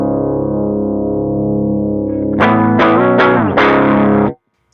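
Electric guitar played through a Tweed Deluxe amp model on an Antelope Audio ZenTour Synergy Core interface, a sustained chord ringing out, then several loud strummed chords in quick succession, driven and slightly distorted, with no talking.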